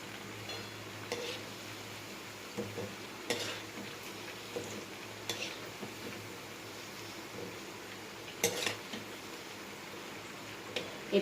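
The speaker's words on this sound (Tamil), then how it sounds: "இப்போது நம்மளோட மசால் வடை வந்து ஒரு சைடு ஃபுல்லாக பொரிஞ்சிருச்சு" Masala vadas frying in hot oil, a soft steady sizzle running throughout with a few brief scraping stirs and clinks of a ladle in the pan, heard close and alone with no talking.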